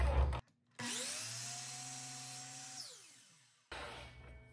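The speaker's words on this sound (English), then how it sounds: "if you're ripping a board on the miter saw, hold it firm, do not move your hand" A miter saw spins up with a rising whine, rips through a wooden board for a few seconds, then winds down, loud and close between stretches of quieter background noise.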